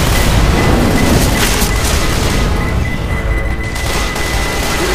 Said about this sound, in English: pipe bomb. Fire in the hole!